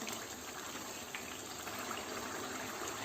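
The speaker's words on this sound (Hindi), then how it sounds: "अब इसमें मैं शामिल कर रही हूँ चने। उस पानी के साथ ही मैंने डाल दिए हैं" Boiled chickpeas go into a pan of chicken together with their hot cooking water, making a quiet, steady wash of pouring liquid with no speech.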